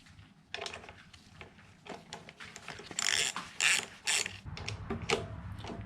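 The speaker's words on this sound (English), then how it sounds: "You can go ahead and tighten it up with your 10 mil again." A 10 mm wrench ratchets while tightening a part on a push lawnmower, giving quiet clicking runs with a few louder, denser bursts of ratcheting in the middle, close and alone.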